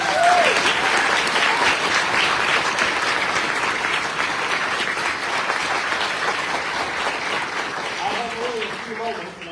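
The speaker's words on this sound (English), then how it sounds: "We give a round of applause." A crowd applauds at a Protect Girls Sports event in New England, steady loud clapping that holds for several seconds and tapers slightly as a voice begins near the end.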